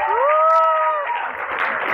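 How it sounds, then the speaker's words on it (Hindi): An audience at an Arts Council Defence Day event claps as a steady wash of applause, with a rising whistle or whoop rising over it near the start. "ज़रा अपनी तालियों से मुझे बता दें कि आप लोग कितने एक्साइटेड हैं"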